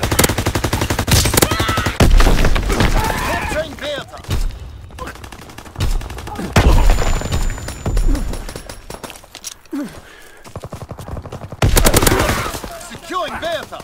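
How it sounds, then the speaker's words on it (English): Incendiary bombs dropped by a bomber in Call of Duty WW2 multiplayer on the Shipment map, dense loud clusters of blasts and gunfire that come in bursts with brief quieter gaps, mixed with voices. "Dropping incendiary."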